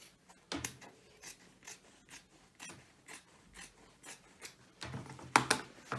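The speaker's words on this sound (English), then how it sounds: "I'm going to just cut on the inside leg seam just to open up the trousers" Scissors snip open a pair of jeans along the inside leg seam, a series of soft, close, separate cuts at an irregular pace that get louder and crisper near the end.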